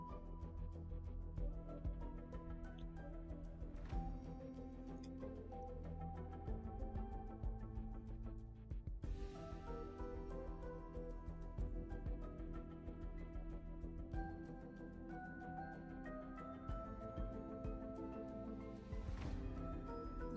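Space fishing music from the Honkai Star Rail video game plays continuously: layered melodic tones over a steady low bed, with brighter swells and shimmering accents partway through and near the end, without any speech.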